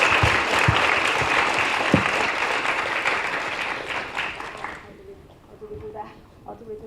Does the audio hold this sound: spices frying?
no